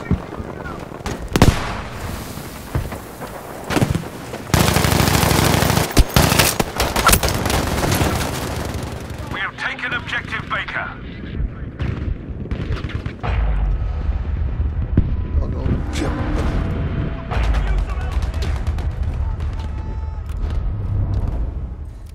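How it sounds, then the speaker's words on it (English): Grenade blast and gunfire in Battlefield V multiplayer combat: sharp shots and a dense roaring burst midway, then crackling, rumbling battle noise with scattered cracks, loud and close with a voice calling out. "Grenade going out!"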